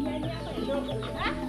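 Javanese village chickens cluck in short, repeated bursts on a rural poultry farm, close and clear over a steady low background hum.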